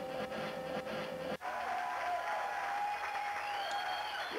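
Crowd applause from the arcade game Boogie Wings, a continuous wash of clapping and cheering at moderate level with a short dip partway through.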